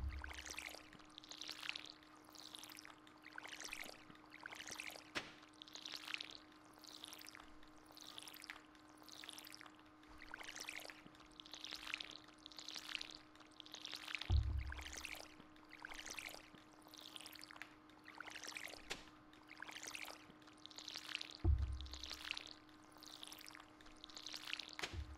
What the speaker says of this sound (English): Then I just water them by hand